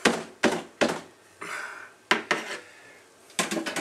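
Home brew beer mixture being stirred in a vessel, with a series of sharp clanks and knocks of the stirrer against the sides and a brief swishing scrape in between, heard alone and close up.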